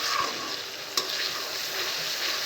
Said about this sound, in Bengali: বাটা পেঁয়াজ দিয়ে ভালো করে নিয়ে নিব,